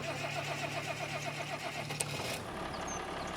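A tractor engine in Farming Simulator 25 runs with a steady mid-pitched drone and idling hum that cuts off near the two-second mark after a brief click, leaving quieter machine ambience.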